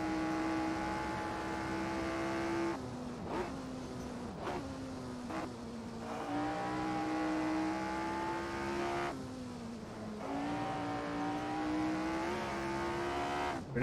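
F3 race car engine in Assetto Corsa at a 1972 Monaco track, a loud continuous buzzing drone that rises through the gears and drops sharply with each shift, heard alone.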